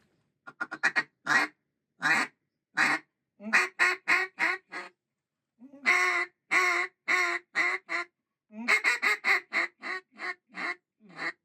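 Ducks quack in rapid, repeated bursts during a duck hunt in Arkansas, the calls loud and close, coming in clustered runs with brief silent gaps between them and no speech.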